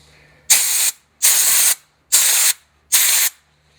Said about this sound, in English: I'm sure the compressor is gonna kick on here in just a second